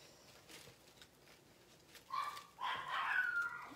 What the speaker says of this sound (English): I apologize if you have a dog at home or a cat if they're hearing Miss Maisie and kind of going a little crazy